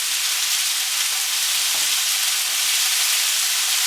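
Beef sizzles loudly in a hot pan as it is sealed, a steady, close, unbroken hiss of frying with no talk over it.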